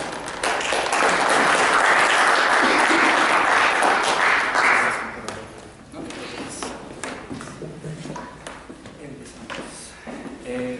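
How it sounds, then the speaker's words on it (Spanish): Loud, dense clapping from an audience at a university philosophy gathering welcomes a speaker, then fades after about five seconds into scattered claps, room noise and faint murmuring. "Lo recibimos con fuertes palmas."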